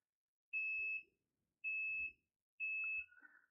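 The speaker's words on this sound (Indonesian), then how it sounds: "Nah, untuk buzzer dia responnya cepat atau langsung." An Aneng SZ08 digital multimeter sounds its continuity buzzer in three short, clean, identical high beeps, each about half a second long, in a quiet room, with faint handling clicks between them.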